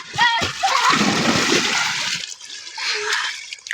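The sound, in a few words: children swimming and splashing in village pond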